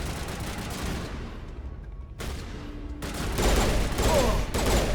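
Rapid gunfire bursts in the sci-fi shooter game Mass Effect, dense crackling volleys that drop out briefly and return louder, with no talk over them.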